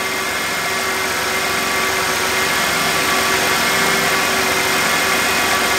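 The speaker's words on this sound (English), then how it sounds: "I'm going to shut the engine off and rinse." A car engine idles loudly and evenly nearby during a Robinair CoolXChange coolant exchange, a constant droning hum and vibration with no breaks.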